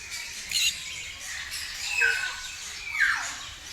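Several birds squawk and call at a Palembang bird park, with three separate sharp, rising-and-falling calls spaced about a second apart over a quiet hiss of background ambience.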